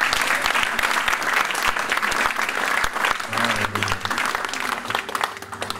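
A church congregation at a Congolese worship service breaks into sustained, loud applause that fills the whole stretch, dense and steady with a few voices mixed in.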